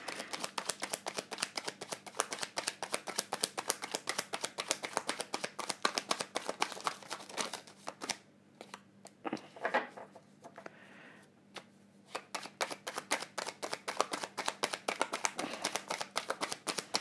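Tarot cards are shuffled in rapid, steady riffling bursts that pause briefly midway, close and fairly loud with no talk over them.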